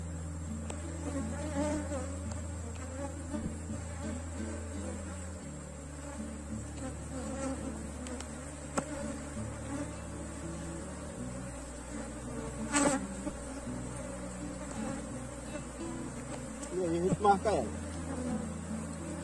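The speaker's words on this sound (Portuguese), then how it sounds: "Vamos organizar o enxame." A swarm of bees buzzes steadily as it is settled into a hive box, a dense, continuous drone close by, with occasional handling knocks and rustles.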